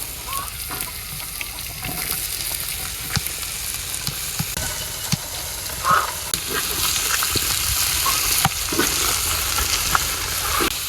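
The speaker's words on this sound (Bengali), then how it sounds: "এবার ভালোভাবে কষাইয়ে নেই মশলা।" Onion, garlic, chili and spices frying in a pan in a Bengali village kitchen, giving a steady, dense sizzle with occasional scraping stir strokes, close and continuous, with no talking.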